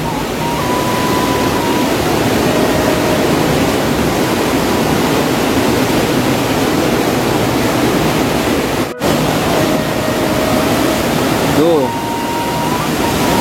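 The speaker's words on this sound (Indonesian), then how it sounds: "memang seperti yang saya katakan bahwa arusnya di sini sangat deras" Fast, strong current of a clean river running through a park, a loud, steady broadband rush filling the whole clip, with a voice briefly speaking over it.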